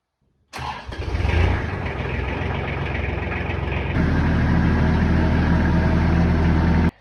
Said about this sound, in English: So let's get the tractor cranked up.